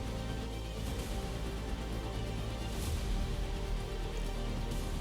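Steady, dense downpour of heavy monsoon rain in Varanasi, a constant broadband hiss with no talk, continuous and even throughout.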